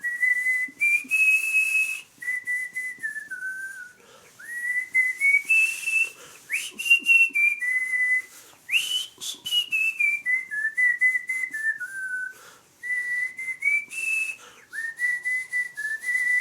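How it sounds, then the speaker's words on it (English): A person whistles the Mockingjay song from the Hunger Games: Mockingjay Part 1 film, a clear solo melody of rising and falling phrases with short pauses, close and alone. "I was just in a Walmart and I found myself whistling it."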